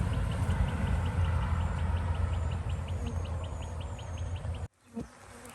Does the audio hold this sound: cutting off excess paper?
no